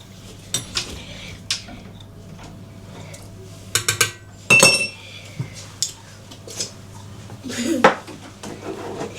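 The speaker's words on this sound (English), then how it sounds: "And then we're going to crack our eggs." Eggs are cracked into a bowl for a dairy-free carrot cake batter, with several sharp clinks and taps against dishware spread over the moment, close and moderately loud amid soft kitchen handling noise.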